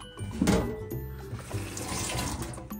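Food is washed under a running kitchen tap, with water splashing close and loud into a sink, peaking early and then flowing steadily.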